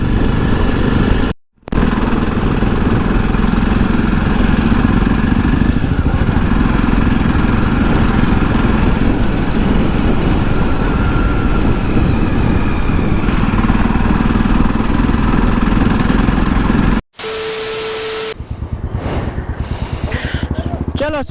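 A KTM Duke motorcycle engine runs with a steady, loud, close rumble that carries through almost the whole stretch. The sound cuts out briefly twice, and a short jumble of other noises follows near the end.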